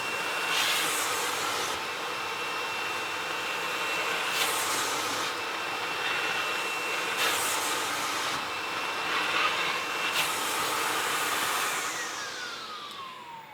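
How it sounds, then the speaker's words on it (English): A steady vacuum cleaner drone runs throughout, with periodic brushing swells as the nozzle passes over hanging curtain fabric, easing off at the end. "essentially going to just gently, in sections, vacuum the curtain down"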